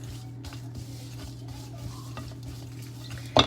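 Brussels sprouts being stirred with seasoning in a bowl or pan, a soft scraping and rustling close by under low background hum, ending with a brief louder clink.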